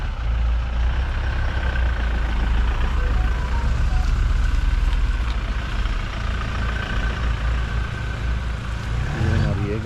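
A car pulls out of a hotel car park at the start of a UK-to-Pakistan road trip, a continuous low engine rumble close by with a faint beeping near the end.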